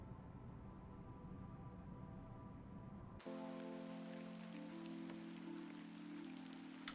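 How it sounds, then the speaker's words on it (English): Steady rain falls in the adventure game The Excavation of Hob's Barrow, a continuous soft hiss that shifts partway through as the scene's ambient tones change. "And it's raining again."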